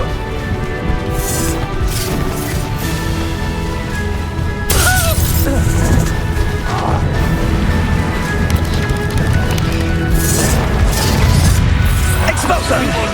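In Hogwarts Legacy, an Expulso blasting spell goes off with a sudden crashing burst partway through during a fight, over sustained music and game noise, with further smaller impacts after it.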